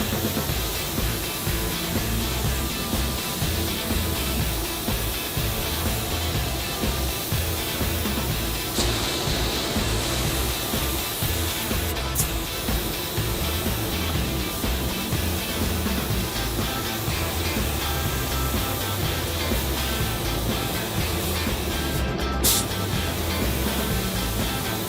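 A spray gun sprays primer onto a Chevy body in a shop, a continuous even hiss holding steady for the full length, no talking.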